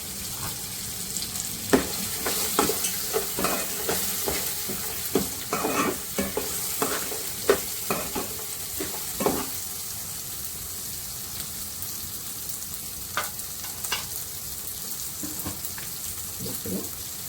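Chutney ingredients fry in a pan with a steady sizzle, broken by repeated scraping and stirring strokes, close and moderately loud with no talk.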